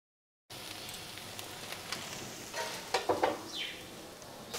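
Masala dosa batter sizzles on an oiled tawa, a soft steady hiss with a few crackling pops, close and fairly quiet, no voices.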